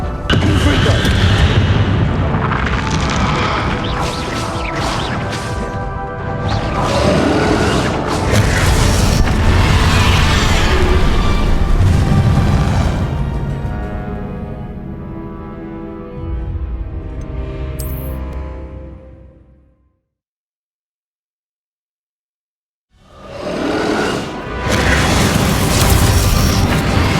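Explosive Confringo spell blasts in the game Hogwarts Legacy during a battle against Ranrock: heavy rumbling booms and roaring fire layered over a dense battle score, fading to silence near the end before resuming loudly.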